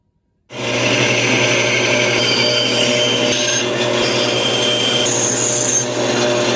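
A power tool cuts out a shape in wood, starting abruptly and then running as a loud, continuous, close whine with a rough rasping edge and no talk.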